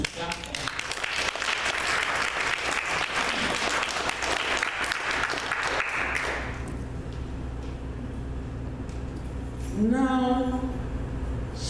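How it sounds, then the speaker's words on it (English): A crowd gives a round of applause with loud, dense clapping for several seconds, then it drops away and a voice speaks over quieter room noise. "I give her a round of applause"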